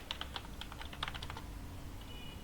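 Password typed on a computer keyboard: a quick run of light, close key clicks in uneven bursts, tapering off over a faint steady hum, with no talking.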